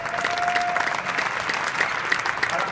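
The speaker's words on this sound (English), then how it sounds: "no one else gets this much applause" A conference audience at IBM Interconnect 2016 applauds, steady and loud, a full crowd clapping without a break and with no talking over it.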